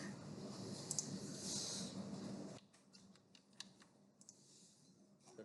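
Typing on a computer keyboard while entering a comment into an Excel spreadsheet: dense, steady clicking of keys for about two and a half seconds, then a few sparse, isolated taps over a quiet background.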